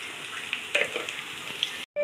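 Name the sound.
potatoes frying in oil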